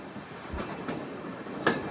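Tirupati Express LHB coaches running between Kakinada and Tirupati near Anaparthi, a soft, steady rolling rumble with a couple of faint rail clacks and a brief squeal.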